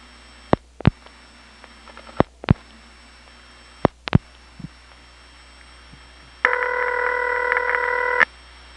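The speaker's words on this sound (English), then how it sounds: "Here's a call to another crossbar 5. It has the same ring type, but you can tell it's a different office." A telephone call goes through a crossbar 5 exchange. Sharp clicks and relay clunks are heard at intervals, then a steady ringing tone sounds for about two seconds near the end.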